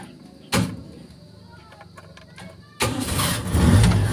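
A car engine cranks and then catches to a loud rough running roar after a fuel filter swap. A short burst comes first, then a quieter stretch, then the engine fires and keeps running close by.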